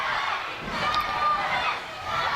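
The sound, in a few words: wrestling crowd reacting against Johnny Lyons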